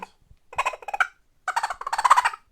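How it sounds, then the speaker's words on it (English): A rapid, throaty chattering squirrel rutting call in two bursts separated by a short pause, fairly close and loud, with no talking. "like the squirrel rutting noise. So this is the sound you'll hear."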